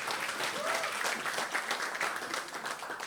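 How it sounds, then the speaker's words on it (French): A congregation at an intergenerational Sunday church service claps loudly and steadily for about three seconds, a dense even patter with faint voices mixed in. "On peut applaudir très fort Anaël, hein."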